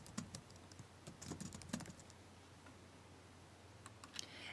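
Quiet clicking of a computer keyboard as a name is typed, short irregular bursts of keystrokes with pauses, close but faint.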